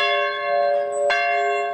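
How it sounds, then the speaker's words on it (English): A nearly 120-year-old church bell rings out in a steady, sustained tone, with a single fresh strike partway through renewing the loud, ringing hum that carries on alone. "ringing the nearly 120-year-old bell to show support for healthcare workers"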